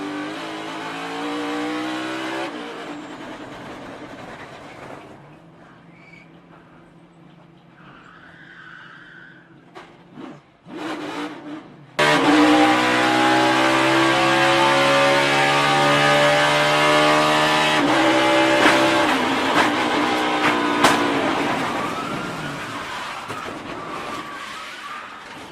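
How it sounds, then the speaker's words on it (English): A NASCAR Cup Series race car heard onboard under braking, locking its rear tyres and spinning out: a loud, sustained engine drone with a harsh skid and tyre scrub that surges sharply midway and stays loud and close. "6 gets into the corner, braking, and locks up the rear tires,"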